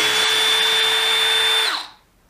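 A power drill driver on a low clutch setting whirs loudly and steadily while backing screws out, then winds down to a stop.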